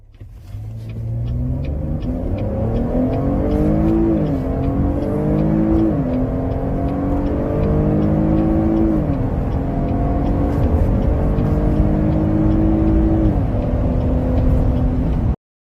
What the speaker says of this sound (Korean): 지금 보여드린 게 이 차의 제로백, 캐딜락 XT5의 이제 제로백입니다.